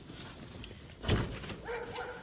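A dog barks once in the distance, muffled under steady outdoor background noise, followed by a faint whine.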